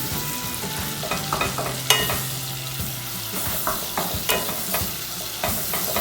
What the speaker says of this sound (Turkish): Ve rengi dönene kadar güzel bir şekilde kıymamı kavuracağım.